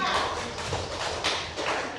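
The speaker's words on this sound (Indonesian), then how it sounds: "tepuk tangan dulu untuk kelompok 2" Students in a small classroom clap for a group of presenters, a fairly quiet, uneven patter of hands lasting a couple of seconds, with faint talk mixed in.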